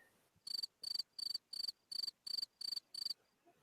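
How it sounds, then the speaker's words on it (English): A cricket chirping sound effect, played during a podcast conversation, gives eight evenly spaced bright chirps in a steady rhythm, clear and close against a quiet background. "Let's get the cricket."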